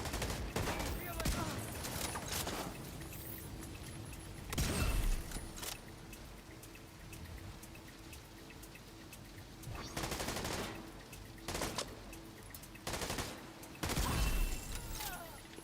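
Sustained automatic turret gunfire in The Division, a multiplayer shooter game, rattling continuously with louder bursts and booming impacts at intervals, mixed with mechanical clanks and occasional speech.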